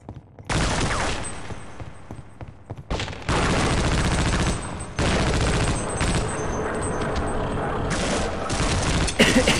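Sustained M249 machine gun fire in Half-Life: Opposing Force, loud and close, pouring out in long continuous bursts separated by short pauses.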